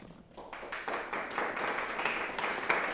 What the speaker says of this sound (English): Thank you for the applause.